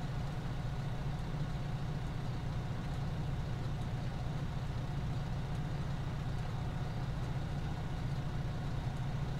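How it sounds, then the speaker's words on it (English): A big truck engine rumbles low and steady behind a car in GTA 5, a continuous idling drone with no talk. "Big truck behind us."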